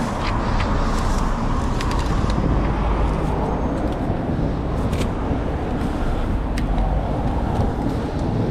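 Steady, loud road traffic fills the scene with a continuous roar of passing vehicles near Bulls Bridge in Hounslow, mixed with wind buffeting the microphone and occasional sharper knocks, with no voices.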